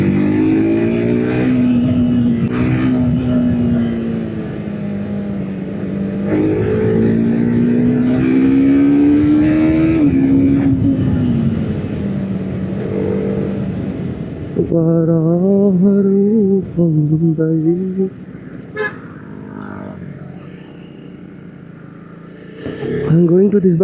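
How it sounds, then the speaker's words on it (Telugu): Engine of a TVS Apache RR 310 motorcycle rising and falling through clutchless quickshifter gear changes, loud and close, with a rider talking over it throughout. "నేను గేర్స్ అనేది వితౌట్ క్లచ్ షిఫ్ట్ చేస్తున్నా, ఎంత స్మూత్ షిఫ్ట్ అవుతుంది."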